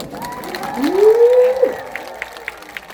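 Audience at a Busan Hyeonin song festival applauds a guest singer, a broad wash of clapping and cheering that swells near the middle, with a voice rising over it before the noise thins.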